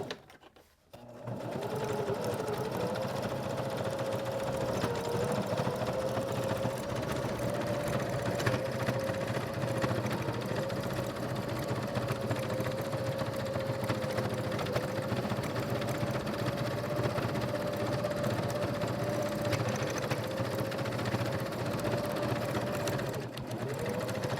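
A sewing machine runs continuously while stitching a folded terry cloth turtle mop, a close, even mechanical hum sustained for the whole stretch after a brief start.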